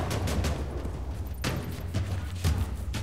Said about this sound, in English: Go to the gunshots.